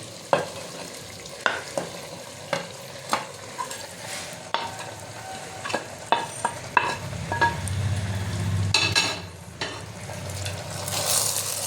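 Marinated chicken frying in a pan for Bengali-style handi chicken, with a low sizzle broken by sharp, regular utensil knocks and scrapes as it is stirred, the frying growing louder toward the end.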